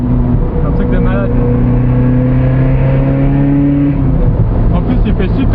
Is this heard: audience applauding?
no